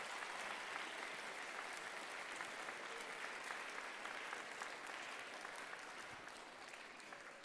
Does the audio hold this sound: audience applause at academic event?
yes